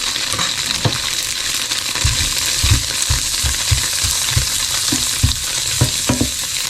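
Garlic and onion stir-fry in a pan with only a little oil, a loud continuous sizzle broken by rhythmic scraping and tapping of a spatula stirring up close.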